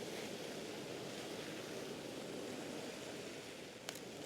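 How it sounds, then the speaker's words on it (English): A hot tub churns with all its jets on high, giving a continuous, faint, rushing bubble and hiss that stays even throughout, with no speech. "we're going to turn all the jets on high, and then we want the bubbles."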